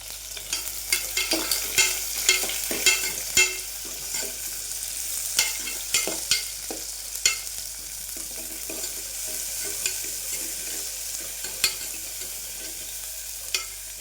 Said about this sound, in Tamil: பூண்டு கொஞ்சம் நல்லா எண்ணெயில் ஃப்ரையாக இருக்கும் ஆனால் வந்து ஒரு ரெண்டு பெருவங்காய்க்கு நீட்டு வாக்கில் கட் பண்ணி வச்சுருக்கேன் அதை இதில் போட்டுக்கலாம்